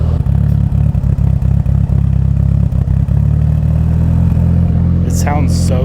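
Mitsubishi Lancer Evo 8 engine idling close up with an uneven, pulsing lope and rhythmic dips, loud and steady, with a brief voice near the end.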